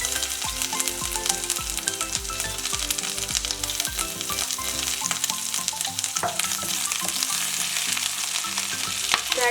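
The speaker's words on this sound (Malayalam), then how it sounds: "അതിലേക്ക് 2 teaspoon ginger garlic paste add ചെയ്ത് കൊടുക്കാം" Ginger garlic paste fries in oil and unsalted butter for paneer butter masala, giving a loud, continuous, crackling sizzle with stirring over a tonal musical backdrop.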